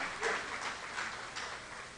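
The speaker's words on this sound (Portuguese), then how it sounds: "Vamos receber esse servo com palmas" Church congregation clapping to welcome a pastor, a dense, even patter of many hands held at moderate distance with no voices, brief and uniform from start to end.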